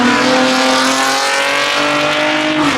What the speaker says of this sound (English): how is a Honda making that noise?